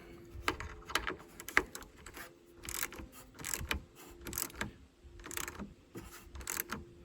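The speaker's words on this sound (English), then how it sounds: "I'm going to use my wrench to tighten it up." A ratchet wrench tightening the negative battery terminal nut on a Toyota Tundra, close and clear, with repeated bursts of rapid clicking separated by short pauses as the handle swings back and forth.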